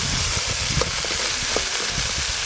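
Small crabs frying in a pan for a spicy crab dish, giving a continuous loud sizzle and hiss with faint scattered pops and stirring clicks.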